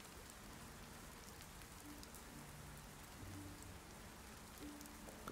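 Steady rain falls in the Viking survival game Dead in Vinland, a dense continuous hiss of drops on surfaces. It sounds close and even throughout, with no voices.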